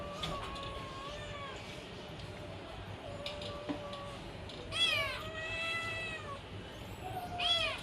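A hungry cat meows repeatedly for fish, loud drawn-out cries coming in bursts close by, with quieter household noise and faint voices in the background.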